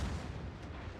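Secondary guns on a warship fire in a naval battle video game, making a dense low rumble of booming shots over about a second with no voices.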